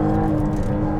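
A 2023 McLaren Artura plug-in hybrid sports car accelerating on a road test, heard as a brief, loud, steady engine drone with a smooth whirring tone.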